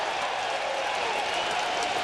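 Baseball stadium crowd cheering and roaring during Randy Johnson's perfect game, a dense continuous wash of crowd noise with applause, steady and loud throughout.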